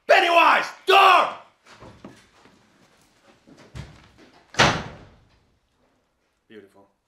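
On the film set of IT (2017), loud shouts ring out, then scattered small noises, then a single sharp door slam, followed by near silence and a faint voice.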